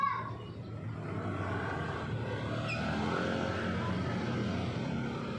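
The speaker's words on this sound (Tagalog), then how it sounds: "Gilid lang kayo, may kotse, gilid lang." A car passes along a road, its engine and tire noise swelling and fading as a steady mid-distance rumble, with faint voices in the background.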